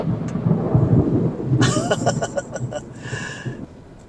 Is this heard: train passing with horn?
no